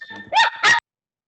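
Noisy dog-rat creature sound effect during a tabletop Pathfinder game: two loud, strained squealing yelps in quick succession, close and alone, then silence.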